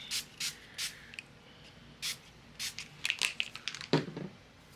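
Short aerosol bursts of shimmer spray misted onto craft cardstock, several separate hissing puffs followed by a quicker cluster of sprays and light paper handling, close and fairly quiet.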